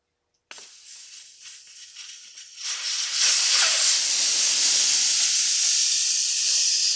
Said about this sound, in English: take the air out of the tire